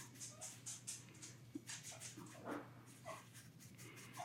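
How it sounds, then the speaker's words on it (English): A dog indoors whines faintly to be let out, thin, uneven whimpers with some soft panting over a low steady hum. "my dog is, I hear him whining, one of my dogs. He wants to go out."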